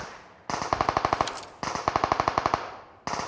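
Automatic gunfire in the Metro Royale game: two long bursts of rapid, evenly spaced shots, each roughly a second long, with a third burst starting at the end. Loud, close and free of talk.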